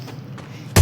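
A single loud, abrupt gunshot rings out in the Free Fire video game. It is close and punchy and cuts in at the very end after a low background hum.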